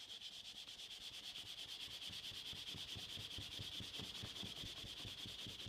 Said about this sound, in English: Actually, I wasn't sanding that gently.